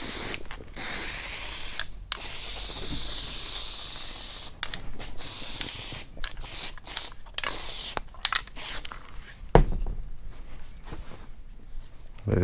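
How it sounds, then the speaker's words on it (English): Short hissing bursts of spray on the backside of an automotive sun visor come in irregular puffs separated by brief pauses, with faint handling noises between them and no talking. "Now we'll spray this"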